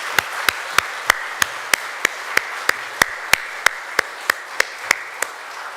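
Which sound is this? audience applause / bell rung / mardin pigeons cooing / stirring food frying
audience applause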